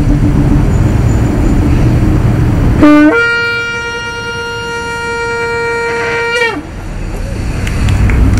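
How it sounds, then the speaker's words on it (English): A shofar horn sounds one long, loud sustained note of about three and a half seconds, bending in pitch at the end, blown at a local event in Atlanta, GA, against a steady background rumble. "for a practiced or proficient shofar blower, you blow it and hold it as long as you can, and just give it a nice pitch at the end"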